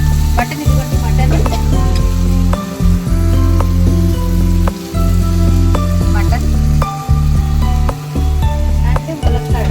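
Mutton frying with onions and green chillies in a pan gives a loud, steady sizzle that runs the whole time, broken by short pauses and clatters as the pieces are stirred.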